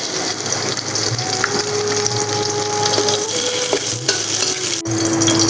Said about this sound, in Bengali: কিশমিশগুলো এখন আমি ঘিতে দিয়ে দিচ্ছি।